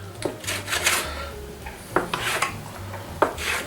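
Bread dough for Mauricettes is cut into pieces on a board, giving a handful of short, close scraping and tapping knife strokes with soft rubbing in between.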